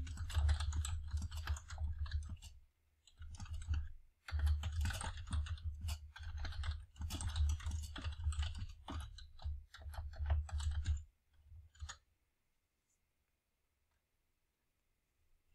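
Typing on a computer keyboard while entering text into an online ad account form: steady, close clattering keystrokes in quick bursts with brief pauses, stopping abruptly and leaving near silence for the last few seconds.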